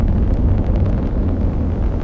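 A Delta IV rocket's main engine and two solid rocket motors roar during launch, a loud, dense, steady rumble heard from a distance with no talk over it.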